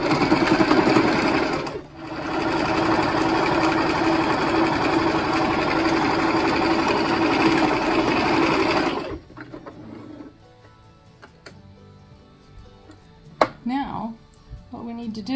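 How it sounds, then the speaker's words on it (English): A sewing machine on a vintage 1969 Shasta camper project stitches a fabric seam with a loud, steady motor whir for about nine seconds, briefly pausing once, then stops, leaving quiet handling noises. "we're going to put it in our machine and we're going to sew it together."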